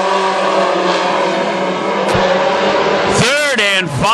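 WISSOTA Mod Four race cars roar off at the green flag at Granite City Speedway. A loud, steady engine drone rises into sharp revving sweeps near the end, with an announcer's voice over the top.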